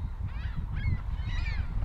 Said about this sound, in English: All the gulls are flying just around me here.